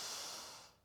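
A person draws a single long breath in while exercising with standing leg lifts, a close, airy inhalation that fades out over under a second.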